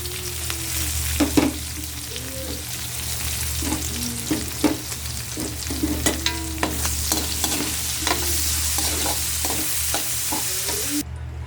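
Pork and onion sauté in a hot pan for ginataang langka, with a steady, loud sizzle and intermittent scraping stirs running throughout.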